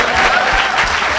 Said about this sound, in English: We can clap for my dad